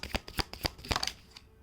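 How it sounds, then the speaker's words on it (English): A deck of tarot cards is shuffled by hand up close, giving a quick series of crisp papery slaps and riffles in an uneven rhythm, with no talking. "I've got 2 cards here, so I will just shuffle them again."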